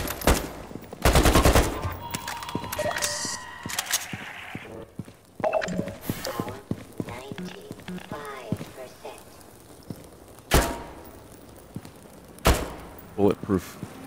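Automatic AK rifle fire in Half-Life 2: Raising the Bar Redux, with loud bursts of shots near the start and sharp single reports later, under game sounds and a talking voice.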